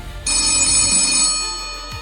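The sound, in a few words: telephone ringing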